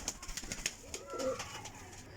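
Faint purebred Aseel pigeons coo softly in short, low, throaty phrases against a quiet background with a few light rustles.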